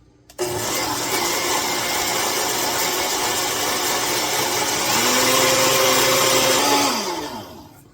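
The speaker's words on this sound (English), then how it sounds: "the trick was to get this blended up until I couldn't see any other little chunks of cilantro kicking around in here" A blender whirs loudly and steadily for about seven seconds while blending a jalapeno and cilantro hot sauce, its pitch rising partway through before the motor winds down and stops.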